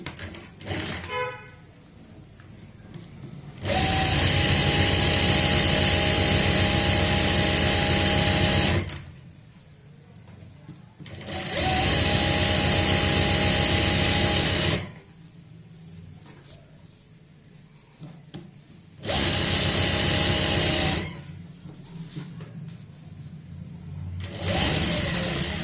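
An electric sewing machine stitches a saree belt in three long, loud, steady runs, each start and stop sharp, with quiet handling between bursts.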